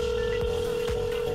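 A telephone keypad tone sounds during a phone call to a customer service line, a steady close tone lasting throughout with faint clicks at regular intervals.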